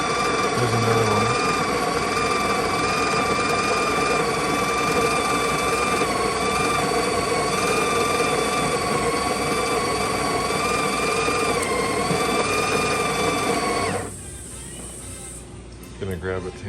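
The coffee grinder of a Breville 870XL espresso machine whirs with a steady, close motor whine and buzzing overtones for about fourteen seconds, then cuts off, leaving quieter room sound and faint clicks.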